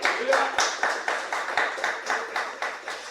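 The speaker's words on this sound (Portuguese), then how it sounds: "Você pode aplaudir ao Senhor?" A church congregation claps in a steady, rhythmic beat of sharp, evenly spaced hand claps, close and fairly loud, about four claps per second, with a voice faintly underneath.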